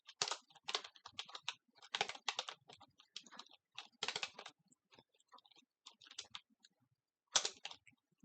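Rapid bursts of typing on a computer keyboard while entering a username and password at a command line, close and fairly quiet, with irregular clusters of key clicks separated by short pauses.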